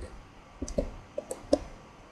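Soft computer key clicks, as when pressing Enter after typing a password, come as about five light, separate taps spread over a couple of seconds in a quiet room.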